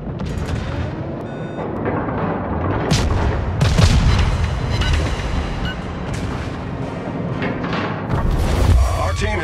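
Heavy naval guns from a World of Warships battle with the cruiser Erie boom repeatedly in loud, close salvos layered over continuous battle rumble, with a voice speaking in the mix.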